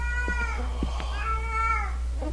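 A cat meows several times in the indie horror game Erie, drawn-out and close, over a steady low hum with no speech.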